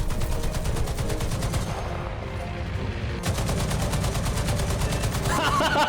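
Loud, rapid gunfire from the video game Xenoblade Chronicles X: Definitive Edition rattles out in steady, nearly continuous bursts, with a brief dip in intensity partway through before the shooting resumes at full force.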